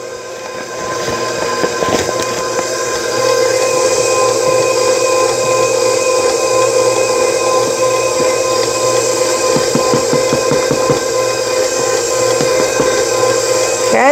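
A stand mixer steadily kneads bread dough with added flour on a homestead, a loud continuous motor whine with a rhythmic knocking churn that stays constant throughout, no talking.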